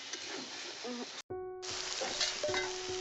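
Kochur loti, taro stolons, cooking over a low flame in a pan, with a steady soft sizzle throughout and a brief gap partway, plus faint scrapes of stirring.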